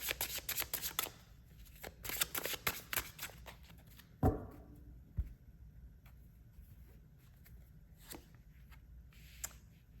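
Tarot cards being shuffled close up, quick riffling bursts in the first few seconds followed by a sharp slap and a few softer taps and shuffles in a quiet room.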